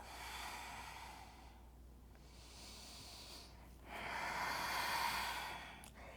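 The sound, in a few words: deep breathing during yoga practice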